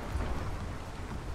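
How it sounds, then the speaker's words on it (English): Steady rain falling in the video game ARK, a dense, even wash of hiss with a low rumbling undertone, unbroken and fairly quiet throughout. "Oh no, it's raining."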